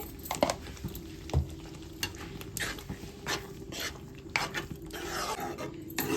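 A spoon stirs gongura and dried fish curry in a pan, scraping and clinking in irregular strokes with a soft sizzle beneath, fairly quiet and close, no one talking.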